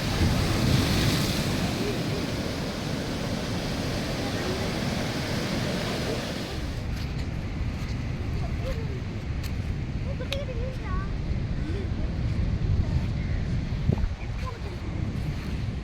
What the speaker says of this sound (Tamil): இங்கே பார்த்தீங்கன்னா அலை எவ்வளோ வேகமாக இருக்குது பாருங்கள் கடல் சீற்றம்